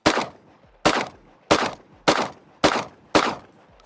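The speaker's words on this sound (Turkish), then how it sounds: "Hazırsanız atış yapıyorum." A shotgun fires six sharp, loud blasts at a steady rhythm, about two-thirds of a second apart. Each blast decays quickly and nobody speaks.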